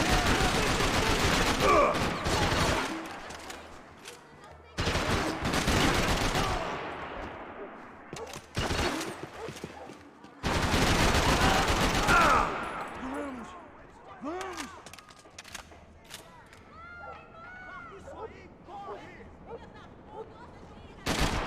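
Gunfire from the video game Max Payne 3: dense bursts of shooting and rapid volleys come in loud clusters separated by quieter gaps, with shouting voices and scattered echoing reports in between.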